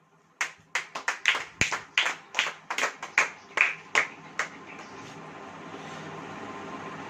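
A church congregation claps in a steady, evenly spaced rhythm, about a dozen sharp hand claps in a row, then the clapping stops and quiet room tone remains.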